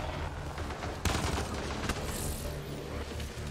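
Sustained gunfire from a sci-fi shooter game, Mass Effect Andromeda, with dense rapid bursts and sharp louder shots standing out near the middle, fairly loud and continuous throughout.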